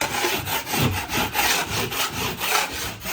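A blade scrapes texture off a wall in repeated rhythmic strokes, rough and close, with no talking.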